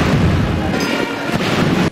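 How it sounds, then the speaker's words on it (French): Ceremonial 21-gun cannon salute fired in honour of Zambia's seventh elected president at a state ceremony; a loud, dense booming rumble fills the whole short stretch without pause. "21 coups de canon."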